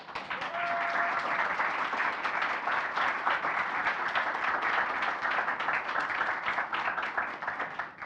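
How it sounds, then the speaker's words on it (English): Sustained audience applause at a PyCon Italia 2023 conference session, dense steady clapping from a full room lasting throughout, fairly close and loud with no talk over it. "I think she deserves another applause."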